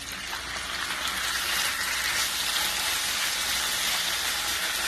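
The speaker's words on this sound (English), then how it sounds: "Now stir it, fry it until it's cooked." Meat stir-frying in a hot pan for noodles gives a steady, loud, close sizzle that runs unbroken throughout, with no talking.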